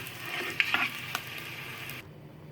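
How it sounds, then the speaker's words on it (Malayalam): Eggs frying in a pan on a low flame for egg curry, a steady soft sizzle with a few sharp spatula clinks and scrapes, close and alone, stopping abruptly near the end. "വളരെ ലോ ഫ്ലെയിമിലായിരിക്കണം ഫ്രൈ ചെയ്യേണ്ടത്. മുട്ട ഫ്രൈ ആയി വന്നിട്ടുണ്ട്."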